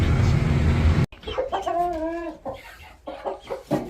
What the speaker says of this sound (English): Crazy ass bird.